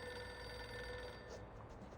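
A desk telephone rings in a video game office scene, a steady electronic bell tone that continues unbroken and fairly quiet under a faint background hum.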